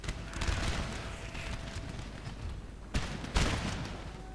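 Musket volleys in a Napoleon: Total War battle on a Greece campaign map, a steady crackle of distant fusillade punctuated by two sharper, louder bursts near the end.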